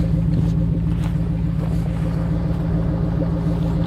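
A Ford Mustang GT fitted with a Lincoln Aviator engine idles steadily, a loud, close, continuous low rumble with an even, throbbing pulse and no talk over it.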